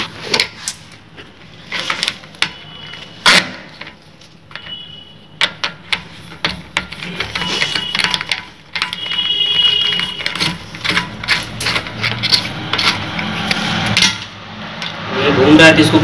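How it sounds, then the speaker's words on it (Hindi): A plastic nut and bolt are tightened during a toilet installation, with scattered knocks, clicks and scraping of plastic parts, close and uneven, and someone speaks over parts of it. "अब इसका ये नट बोल्ट से टाइट करना है"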